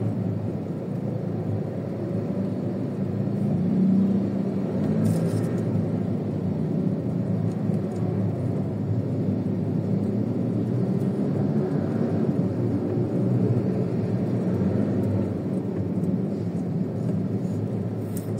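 Steady road traffic of cars heard from inside a moving vehicle on a drive to a mall, a continuous low rumble and road roar with no break and no talk.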